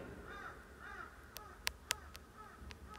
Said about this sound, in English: The crows are crying.